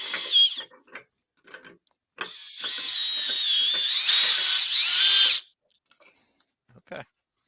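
A Makita cordless power drill runs steadily for about three seconds under load during a battery test, loud and close, with brief clicks and short bursts of other tool noise before and after.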